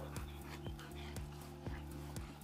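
A female dog barks in a training session, a quick run of sharp, evenly spaced barks about twice a second, close and fairly loud, with a faint whine between them.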